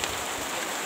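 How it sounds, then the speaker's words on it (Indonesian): Rain falling in a garden in a village, a dense, even hiss of drops close by for under a second, with no talking. "Oh, hujan."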